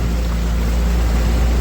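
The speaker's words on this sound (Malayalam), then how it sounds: "നമ്മളങ്ങനെ ബോട്ട് ജെട്ടിയിലേക്ക് അടുത്തുകൊണ്ടിരിക്കുകയാണ്" A boat motoring toward the jetty at Sambranikodi, a loud, steady low engine drone with wind and water rush, unbroken for the whole moment.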